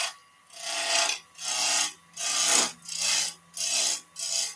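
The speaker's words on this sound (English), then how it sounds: "this is end grain we're turning now" End-grain wood is cut on a lathe in seven evenly spaced rasping strokes, each a short scraping burst separated by brief quiet gaps.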